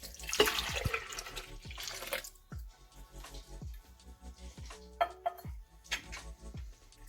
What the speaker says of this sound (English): Now in a blender you're going to add all of the milk.